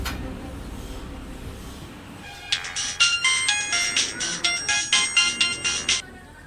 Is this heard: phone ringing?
yes